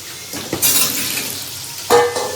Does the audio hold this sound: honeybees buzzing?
no